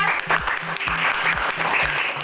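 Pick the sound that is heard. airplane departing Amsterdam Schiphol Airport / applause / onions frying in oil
applause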